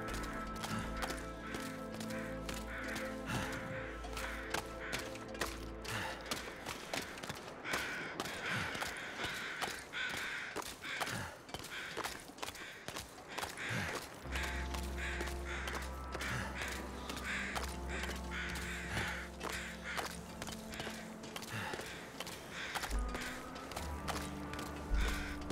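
Crows caw repeatedly inside a video game cave, woven into a dense, steady bed of game ambience with clopping hoof-like beats, and no voices over it.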